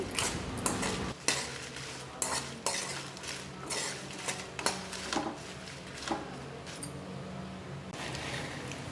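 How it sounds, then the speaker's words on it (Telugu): A ladle scrapes and clinks against a pan as ingredients fry in a tablespoon of oil for gongura pickle, with repeated metallic strokes over a soft, continuous sizzle. "ఇలా గంటతో తిప్పుకుంటూ ఫ్రై చేసుకోవాలి"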